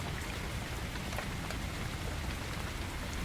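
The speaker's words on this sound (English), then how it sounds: "a mind filled with the gentle sounds of the rain" Steady rain falls through a forest, a dense even patter of drops on leaves and ground, with no voices.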